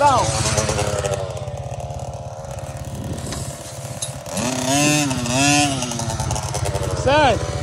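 A KTM 50 SX mini dirt bike engine revs loud and close, its pitch rising and falling through several throttle blips, with people talking over it.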